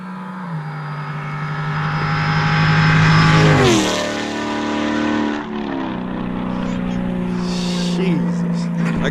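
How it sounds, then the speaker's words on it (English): A loud Scat car engine and exhaust roar past, pitch dropping sharply as it goes by, then another engine drone sweeps through. "all you heard was straight engine and exhaust"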